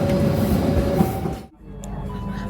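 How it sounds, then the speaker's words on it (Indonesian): The Senja Utama Yogyakarta passenger train rolls along with a steady, close rumble of wheels and carriage noise that briefly dips before resuming. "Aku naik kereta Senja Utama Yogyakarta"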